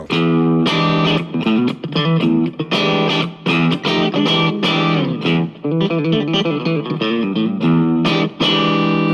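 An electric guitar plays a busy run of chords and notes through heavy distortion, loud and continuous with fuzzy, saturated tone.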